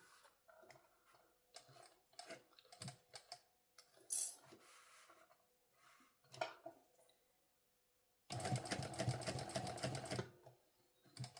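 A hand-cranked sewing machine stitches a sling pouch, giving scattered ticking clicks and short cranking bursts before a loud, sustained run of rapid stitching near the end.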